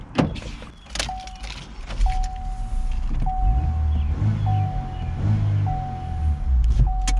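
A 2019 Chevy Cruze L, with a CVT, pulls away: a door thud and clicks, then a steady low engine and road hum inside the cabin while a repeating electronic chime beeps at regular intervals.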